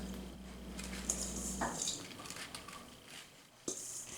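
A metal pastry cutter presses and clinks through crumble topping in a bowl, with soft irregular taps and scrapes at close range, fairly quiet.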